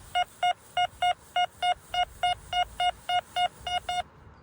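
Series of about fourteen evenly spaced electronic beeps from an XP Deus II metal detector running version 3.10 with its silencer setting on, each tone short and bright, steady rhythm, close and alone.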